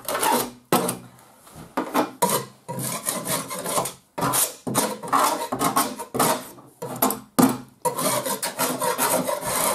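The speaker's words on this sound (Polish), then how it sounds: "No, niewątpliwie skrobię pan starą farbę" A putty knife scrapes old paint off an indoor wall in short, loud, raspy strokes. The strokes come in an irregular rhythm with brief pauses between them, close up.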